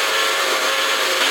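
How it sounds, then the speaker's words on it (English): A struggling kitchen blender grinds thick smoothie ingredients, a loud, steady high-pitched whir that holds without pause throughout. "I'm going to blend this all together and hope my blender does not die."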